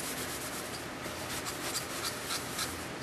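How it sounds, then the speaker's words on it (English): Wet parts of a model Corsair aircraft kit are rubbed lightly for pre-cleaning. A soft, continuous scrubbing and rubbing sound comes from close by, with gentle rhythmic strokes and no talking. "just lightly rub everything"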